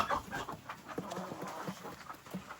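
Chickens and chicks on a farm cluck and peep in short irregular bursts, fairly close and moderately quiet, with no talking.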